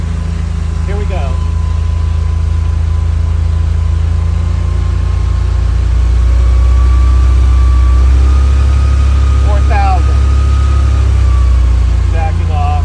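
A car engine just after a cold start is revved to about 4,000 RPM, holding a loud, steady low drone with a faint rising whine, and someone talks briefly over it.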